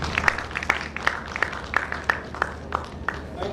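Audience clapping for a speaker at a Nigerian safety event in 2018, a loose, steady patter of hand claps at moderate level that carries on throughout, with no talking over it.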